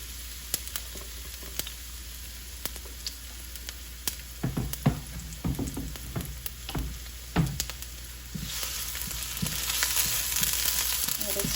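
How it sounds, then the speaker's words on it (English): Chopped onion and shallot sizzling in hot oil, a quiet crackle with scattered pops and scraping stirs, the frying swelling into a louder hiss toward the end. "the oil nice and hot now. I'll add in my onion, a little bit of the shallot"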